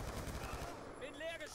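Rapid automatic gunfire from the video game Black Ops 2, dense continuous bursts dominating the mix with a faint voice-like tone rising briefly near the end.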